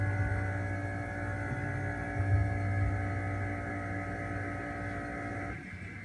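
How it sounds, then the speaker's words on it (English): Vacuum pump evacuating a chamber: a steady droning hum with strong tonal overtones, loud and continuous, easing slightly near the end, with no speech over it. "Okay, now let's vacuum out the chamber."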